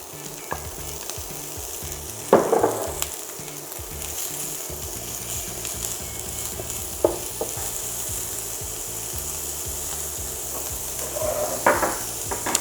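Chorizo pieces sizzling in a frying pan alongside chicken escalopes, a loud, steady crackling fry heard up close, with occasional scrapes and taps of a utensil against the pan and no talking.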